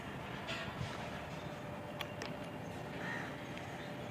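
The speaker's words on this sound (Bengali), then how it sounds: "দেখো একটা ট্রেন আসছে, এই দেখো একটা ট্রেন আসছে" A train passes at some distance, a faint steady rumble of wagons over rails with a few brief higher squeals and distant birds, and no talk.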